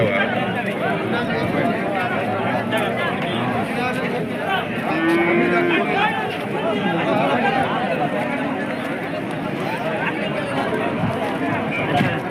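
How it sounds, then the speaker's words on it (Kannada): Buffaloes moo repeatedly at a busy cattle market, with a long low call standing out amid constant crowd chatter and bargaining voices nearby. "ಬರಲ್ಲ ಎಮ್ಮೆಗಳು ಬರ್ತಾವೆ ಅಲ್ವಾ"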